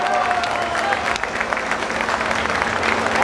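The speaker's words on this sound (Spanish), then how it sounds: "¡Un aplauso para el niño!" Concert audience at a show in Santa María Tecomavaca, Oaxaca, breaking into sustained loud applause, a dense wash of clapping with scattered whistles and crowd noise.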